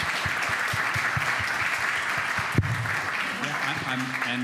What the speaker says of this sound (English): So if everybody could join me for a round of applause for amazing panelists